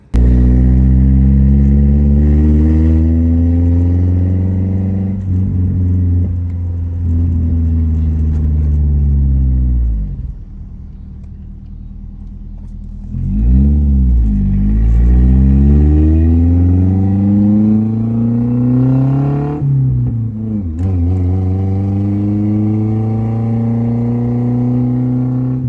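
A Nissan S13 engine revs on a test drive, rising and falling through the gears with deep throaty tones, a dip and lull near the middle, then climbing again, loud and close with no talking.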